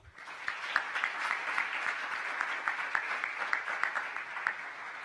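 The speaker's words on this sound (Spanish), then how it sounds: "Así que vamos a darle otro aplauso, por favor." An audience at a corporate governance conference gives a round of applause. The clapping is steady and moderately loud, with individual sharp claps standing out against the crowd and no speech over it.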